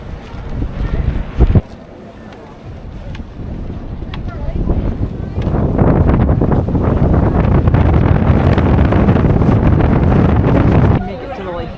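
Strong wind buffets a fishing boat off Alaska, roaring loudly into the microphone as a broad, steady rush that swells and holds, with brief gusty bursts near the start and a drop at the end.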